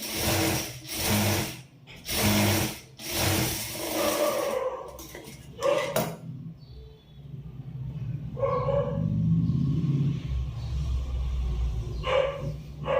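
A sewing machine runs in several short bursts while stitching a blouse seam, each run a loud, close whir with brief pauses between, followed by quieter handling noise and a low background rumble.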